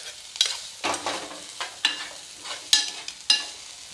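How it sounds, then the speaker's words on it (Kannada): Frying for dhaba-style chole, with a spatula stirring the pan in a run of sharp metallic scrapes and clacks, roughly six distinct strokes over a soft background sizzle, close and with no talking. "ಇದು ನೋಡ್ರಿ, ಈ ರೀತಿ ಫ್ರೈ ಆಗಬೇಕಿದು"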